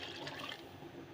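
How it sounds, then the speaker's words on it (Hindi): Water poured into a pot of chicken haleem during home cooking, a steady faint splashing gush that runs unbroken for about a second with no voices. "हम इसमें ऐड करेंगे पानी"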